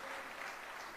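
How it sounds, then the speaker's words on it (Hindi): Audience at a Hindi political speech breaking into applause, a steady wash of clapping heard faintly and without voices over it. "अरे ताली बजाने की क्यों गुजरातियों को जल्दी है?"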